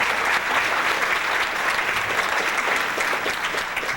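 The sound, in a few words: audience applause for Dr. Sebi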